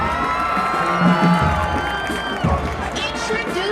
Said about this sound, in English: Let's give a warm round of applause for Miss Asia Bridgewater.